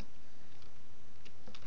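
A computer keyboard types a chat reply in Gmail, heard as a faint scatter of light key clicks over a quiet background.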